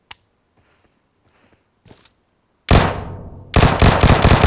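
Gunfire in PUBG Mobile on the Erangel map: a few faint clicks and taps, then a loud burst of rapid automatic shots that fades, followed by another sustained, dense volley close up.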